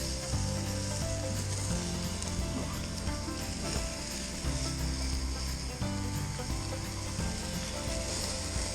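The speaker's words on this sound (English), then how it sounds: "pay attention to your onions here. Get nice little grill marks on them" Onions searing on a grill while cooking bear meat outdoors, a loud, constant close sizzle with a low hum running underneath and no pauses.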